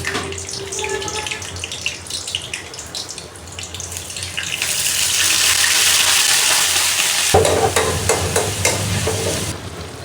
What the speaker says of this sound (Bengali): আমি ডালটা বাগার দিয়ে ফেলি।